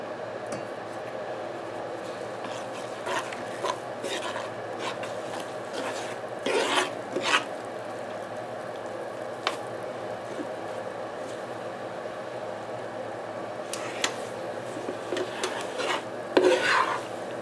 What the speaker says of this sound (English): now that I've got it nice and melted, I'm going to start adding in my sawdust